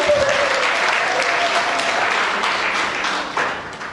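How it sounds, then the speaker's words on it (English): Loud, dense applause from a crowd at a girls' event against gender-based violence, honouring a girl, filling the room with continuous clapping that stays strong throughout and eases slightly near the end. "Give her a round of applause."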